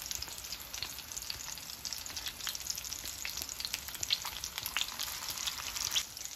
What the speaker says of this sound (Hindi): स्लो आंच में ये बहुत अच्छे से अंदर तक फ्राई हो जाएगी